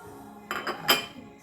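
Tilapia flesh being mixed with two eggs in a bowl for fish balls: three quick utensil clinks and scrapes against the bowl in close succession, close up and moderately loud, with no talking.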